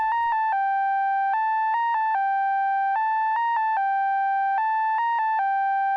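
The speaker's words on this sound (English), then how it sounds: "Next we have this lead sound which I'm making inside Serum." A clean, pure sine-wave synth lead with sync, made in Serum, plays a simple stepped melody of sustained tones, alone and steady, with short pitch jumps between held notes.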